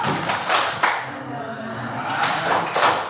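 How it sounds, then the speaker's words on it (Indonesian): An Indonesian high school classroom of students doing the rhythmic 'tepuk fokus' focus clap, several sharp group thumps and claps in a patterned rhythm, with a voice speaking between the beats. "Coba tepuk fokus"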